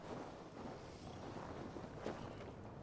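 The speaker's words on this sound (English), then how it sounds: "Windy." Wind sweeps through a stormy scene in Assassin's Creed Valhalla, a steady broadband rush that holds at a constant low level for a few seconds, with no voices.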